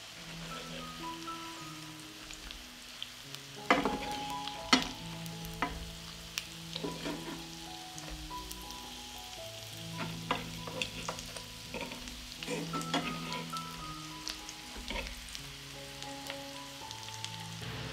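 Zucchini and potato patties sizzle steadily in hot olive oil, a continuous close frying hiss with occasional louder crackles and clatters from a spoon or utensil, and no talk.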